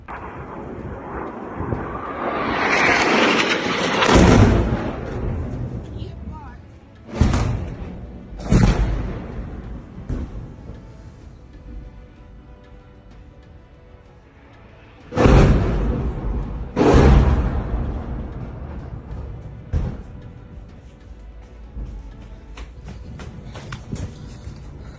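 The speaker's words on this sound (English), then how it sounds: "the moment 6 missiles struck the same location" Six missiles strike the same location in a war zone, heavy booming blasts and sharp thuds spaced several seconds apart over a continuous roaring rumble, loud and distant.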